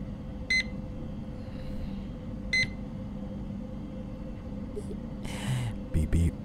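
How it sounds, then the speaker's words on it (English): Two short electronic keypad beeps from the horror game Fear to Fathom Ironbark ring out a couple of seconds apart, followed later by a quick cluster of beeps over a low steady hum, with a voice speaking near the end. "Beep beep. Password."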